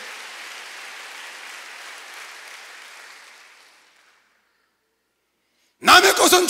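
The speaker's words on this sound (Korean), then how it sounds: "박수로 하세요" A church congregation at a Korean sermon applauds in a steady, even patter that gradually fades into silence, followed by a sudden close voice at the end.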